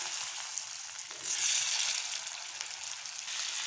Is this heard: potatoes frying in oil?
yes